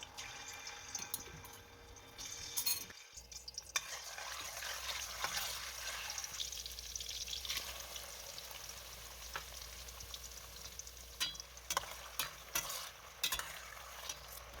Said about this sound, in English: I will start to fry my onions, my garlic, my pepper